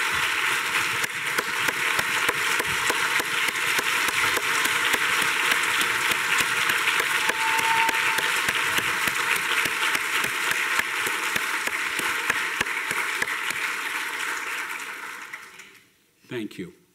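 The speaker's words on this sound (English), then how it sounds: "I think she deserves a round of applause." Sustained audience applause for a university mentor-of-the-year honoree at a State of the University address, a dense steady clatter of many hands filling the room for about fifteen seconds before tapering off abruptly.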